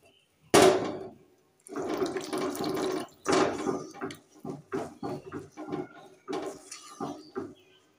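Hot water is poured into a curry as it cooks, coming in several splashing, gurgling bursts of varying length separated by short pauses, close by and with no talking.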